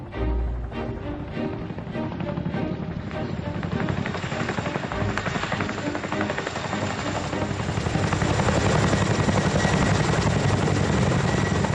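A military helicopter at Pembrey airport in Wales, a refuelling stop near an MOD firing range, thunders loudly and steadily throughout, its rotor chop and engine roar building slightly toward the end.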